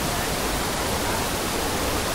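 Steady, dense roar of falling water at Shower Fall near Ditumabo Mother Falls, close and constant with no breaks.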